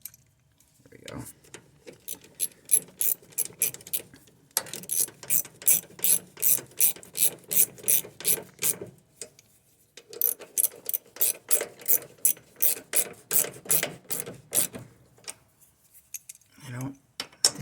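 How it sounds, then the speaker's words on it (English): A ratchet wrench clicks loudly and close during brake replacement on a Craftsman LT1000 riding mower, in two long runs of evenly spaced rhythmic strokes separated by a short pause, with a few soft handling knocks at the start and end. "Get this going in the right, this ratchet going in the right direction."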